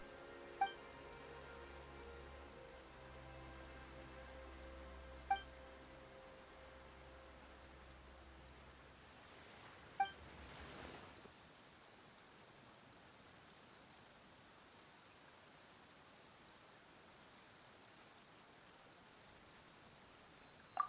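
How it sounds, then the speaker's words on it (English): Steady, soft rain hiss falls in the Genshin Impact game world, a continuous faint noise bed with a low hum early on and a few sharp clicks scattered through. "Why is it raining all of a sudden?"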